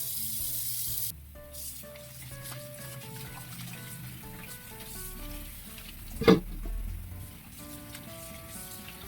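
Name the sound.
garlic frying in pan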